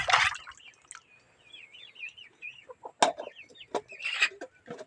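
Backyard village chickens clucking and calling close by, a run of broken, throaty clucks and short squawks coming in bursts with quiet gaps between them.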